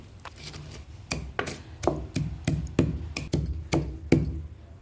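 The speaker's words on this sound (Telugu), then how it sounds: "నేను దంచేసుకుంటున్నాను దంచేసుకుంటే బాగుంటుందని నేను దంచుకుంటున్నాను" Fish-curry ingredients being hand-pounded instead of blended in a mixer: about a dozen sharp, close thuds in a steady rhythm roughly every third of a second, with no voices.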